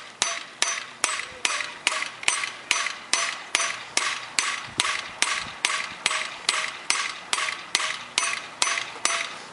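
A hammer peens a scythe blade on an anvil, striking in a steady, even rhythm of about twenty sharp, ringing metallic blows, close and alone.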